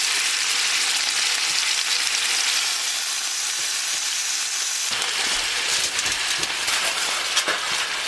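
A deer heart pan-fries in grease at a tent camp, a dense, steady, close sizzle and spatter lasting throughout, which turns slightly rougher with scattered pops partway through, with no talking.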